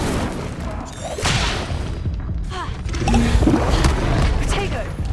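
Incendio fire spell cast in Hogwarts Legacy on Xbox Series X, a loud whooshing burst of flame with booming impacts and clattering effects, sustained through the clip, with game voices over it.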